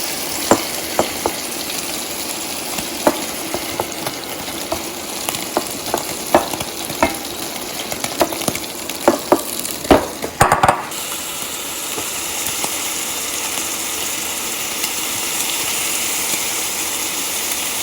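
Beef pieces for stroganoff fry in a pan with a loud, continuous sizzle, while sharp clatters and scrapes of a spatula come and go, clustering near the middle before the hiss settles.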